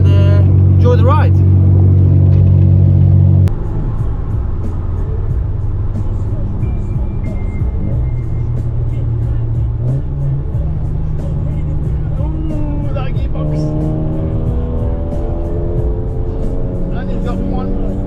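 Volkswagen Corrado driving at the Nürburgring: a steady engine drone from inside the car, with the pitch stepping up through gear changes as it cruises along at a moderate pace.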